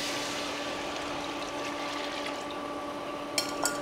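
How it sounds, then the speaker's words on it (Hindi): Water being poured into a pot of Rajasthani kadhi made with besan, a steady continuous pouring wash that runs alone for several seconds, ending with a couple of brief clinks near the close. "अब इन मैंने अपा 3 कप पानी डाल दी।"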